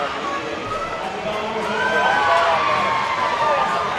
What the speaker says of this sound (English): You can hear that crowd noise going wild for Piper.